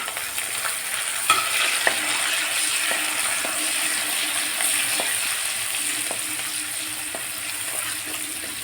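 Curry leaves sizzling in hot coconut oil with ginger and chilli, a steady close frying hiss with occasional pops and stirring clinks, no voices.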